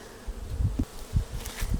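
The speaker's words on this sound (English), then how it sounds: "they're having a little bee battle right there" Honey bees buzz steadily at an open hive during a honey harvest, a close, continuous drone with brief swells as individual bees pass near.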